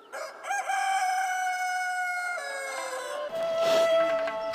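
A rooster crows loudly and close by, one long drawn-out cock-a-doodle-doo followed by the start of a second, among village farm animals like pigs, goats and chickens kept by residents of a mountain cave village.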